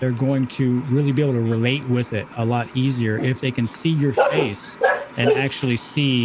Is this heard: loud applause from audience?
no